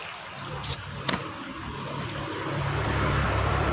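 Floodwater rushes fast across the Banda Aceh–Medan highway in Pidie, a steady, fairly faint wash of noise that swells slightly toward the end, with a few brief knocks.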